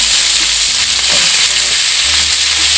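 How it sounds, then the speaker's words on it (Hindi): Potatoes cut into thick chunks are tipped into hot oil for a spicy garlic green-chilli potato dish, frying with a loud, steady sizzle while a spoon stirs them, with no talking. "तो आलू डाल देता हूँ मैं इसमें।"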